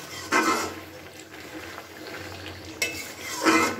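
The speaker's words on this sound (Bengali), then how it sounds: "এবার একটু নাড়াচাড়া করে নিচ্ছি।" A spoon scrapes and stirs a mustard and poppy seed spice mixture with bean in a pan, in three distinct bursts over a faint, low simmer.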